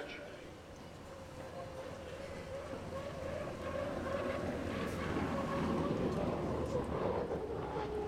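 A hydroplane racing boat engine roars steadily in testing at the 2018 Bayfair, a loud, constant drone with rushing wind and water noise that builds slightly over time.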